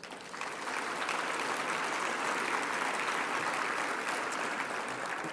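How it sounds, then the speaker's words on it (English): An audience at a civic event honoring the outgoing and incoming mayor gives a steady round of applause for event contributors, dense clapping swelling in after a brief start and holding evenly at a moderate distance. "Will you give them a round of applause?"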